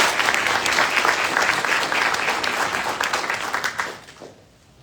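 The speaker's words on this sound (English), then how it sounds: "Please join me in a round of applause for the supporter awardee." An audience at a military training graduation ceremony applauds for a supporter award, a dense, loud, even burst of clapping that thins out and fades to near silence at the end.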